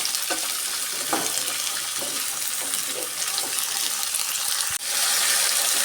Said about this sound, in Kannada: ಈ ಥರ ಫ್ರೈ ಮಾಡ್ಕೊಳ್ಳೋಣ. ಚೆನ್ನಾಗಿ ಕೆಂಪಿಗೆ ಹುರ್ಕೊಬೇಕು ನಾವು.